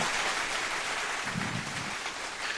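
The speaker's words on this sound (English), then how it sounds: "I'm going to give you a big round of applause, bro." A round of applause during a live interview show fills the whole stretch as a dense, steady wash of clapping at moderate loudness, without any speech.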